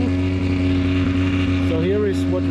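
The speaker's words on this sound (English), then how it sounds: "The electric Audi is making a noise." Electric Audi e-tron Dakar rally car giving off a steady, loud, droning tonal hum at close range, with a short rising and falling whine near the end, amid background voices.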